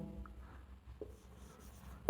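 Chalk or marker scratches across a classroom board in faint, brief strokes, very quiet and close with little else around it.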